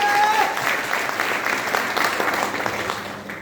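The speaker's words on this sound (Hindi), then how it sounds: "एक बार उनके लिए जोरदार तालियां चाहूंगी" Hall audience at a speech and award event breaks into loud, sustained clapping that starts strong, eases slightly, then carries on steadily, with a brief voice at the opening.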